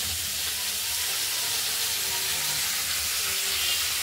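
Flat beans frying in hot oil in a pan, a continuous close hiss and sizzle with no pauses, fairly loud and steady.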